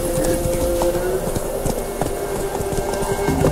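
Horse hooves galloping in The Witcher 3 video game, a steady rapid clip-clop rhythm carried over a constant low ambient hum.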